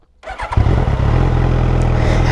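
A warm 2024 Suzuki GSX-S1000 motorcycle fitted with a Dominator GP3 slip-on exhaust starts up close by. A brief starter whir catches into a loud, steady, deep idle that carries on alone.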